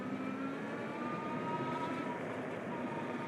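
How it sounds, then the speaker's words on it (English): A HoverAir X1 drone flying and following at 15 mph, heard as a steady, loud whirring drone mixed with rushing wind noise that holds constant throughout. "And I still hear the drone."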